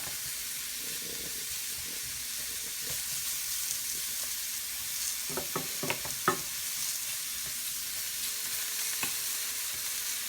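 About one and a half to two cups of mushrooms sauté in a pan with a soft, constant hiss, broken by a few sharp scraping clicks from stirring midway through.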